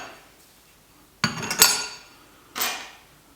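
Stainless steel parts of a Speidel Braumeister 10L brewing unit clink and scrape as they are handled and screwed onto the filter plate, a couple of sharp metallic knocks followed by a ringing clatter.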